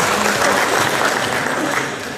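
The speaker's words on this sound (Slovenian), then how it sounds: "si zaslužite najbolj resen aplavz" Audience applause at the annual general meeting of the Domžale diabetics' society, a steady dense wash of clapping from a hall crowd, fairly loud and sustained throughout.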